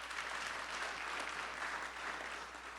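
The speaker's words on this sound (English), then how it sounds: "So that's worth a round of applause" An audience at a college sports hall of fame induction ceremony applauds, a soft, even wash of clapping heard from a distance throughout with no voices over it.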